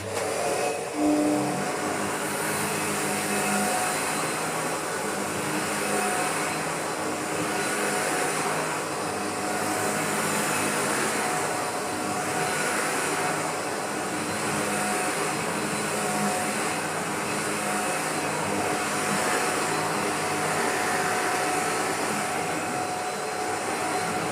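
A refurbished Shark DuoClean NV801UK-T vacuum cleaner runs continuously, close and loud, with a steady whooshing roar and faint rhythmic swells as it is pushed back and forth.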